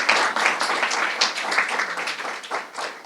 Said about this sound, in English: give them a round of applause for their courage and leadership